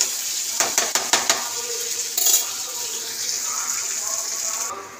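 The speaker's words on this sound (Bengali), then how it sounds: "এটা উল্টিয়ে দিলাম একটু, এটা একটু ভাজা হোক কাজুটা।" Cashew nuts fry in a pan as a spoon taps and scrapes in quick clicks, followed by a scraping stir and a low, even sizzle nearby.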